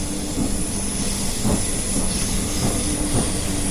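A train pulling out of a station in Train Simulator 2018, with a constant loud rumbling drone, a high hiss above it, and faint rhythmic thumps as it gets under way.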